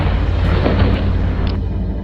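A loud boom like a gunshot in a film rings out over a dense, rumbling soundtrack, followed by a sharper crack.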